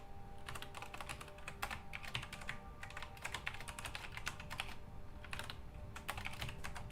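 Steady, rapid keystrokes on a computer keyboard, close and fairly quiet, running continuously in bursts with brief pauses and no voices.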